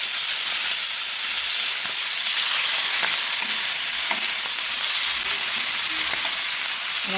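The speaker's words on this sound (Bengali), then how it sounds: "সব শেষে রান্না করা হচ্ছে ইলিশের ভাজি" Hilsa fish frying in a pan, a loud continuous hiss and sizzle of hot oil filling the whole stretch, with faint occasional clicks and no talk.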